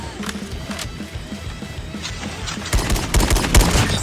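SKS rifle gunfire in Call of Duty Mobile, ranked match: rapid sharp shots and clattering impacts, sparse at first and then a louder, denser burst near the end, with light game noise underneath.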